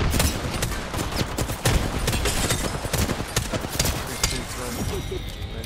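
Rapid gunfire from Apex Legends, dense bursts of sharp cracks and automatic volleys overlapping one another, loud and close with steady shooting throughout.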